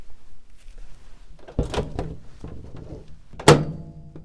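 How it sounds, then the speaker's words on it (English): A few soft knocks and handling noises, then a sharp thunk of a microwave oven door being shut nearby, followed by a faint hum. "Put that in the microwave for 30-second increments"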